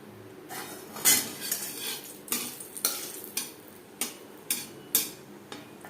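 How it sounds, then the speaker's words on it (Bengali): Dried red chillies broken into pieces fry in two spoons of refined oil in a pan, with a soft background sizzle under a series of sharp metallic spoon clinks and scrapes at irregular intervals, close and fairly quiet. "শুকনো লঙ্কা লালচে করে ভেজে নেওয়ার পর লঙ্কা অবশ্যই বেশ ভালো করে ভেজে নিতে হবে"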